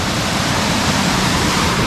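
Rushing fresh water stream in a Konkan forest, a loud, steady broadband roar of flowing water heard up close and continuing without break, with no voices over it.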